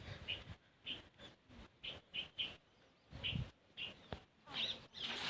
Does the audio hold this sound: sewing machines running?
no